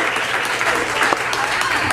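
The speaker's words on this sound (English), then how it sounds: "Give him a round of applause." Audience applause at a burlesque show, steady dense clapping filling the room for the whole stretch, moderately loud and close, with a few voices mixed in.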